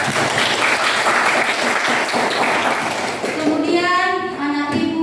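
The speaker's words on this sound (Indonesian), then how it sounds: "Oke, berikan tepuk tangan aku" Applause from an audience at a classroom or school gathering, a dense wash of clapping filling the first few seconds, then thinning out as a few sustained tones or voices come through near the end.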